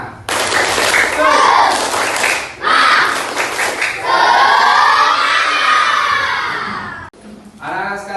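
A class of schoolchildren shouting a rhythmic group chant together, loud and close, with bursts of clapping between the shouted lines.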